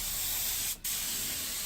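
A spray gun hisses a light coat of paint onto a wooden paramotor propeller being repaired, a close, steady hiss broken by one brief pause before it resumes.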